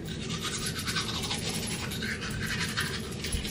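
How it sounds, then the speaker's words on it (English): Light scrubbing of teeth with a toothbrush and a bit of toothpaste, a steady close-up bristly rasp that continues without a break and with no talking. "I'm just gonna brush my teeth lightly"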